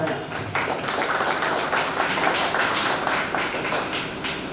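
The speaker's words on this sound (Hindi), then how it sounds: "आपके लिए जोरदार तालियां हो।" Crowd applause at a ceremony for Chhatrapati Shahu Ji Maharaj's 148th birth anniversary: a dense, steady patter of many hands clapping at moderate loudness throughout.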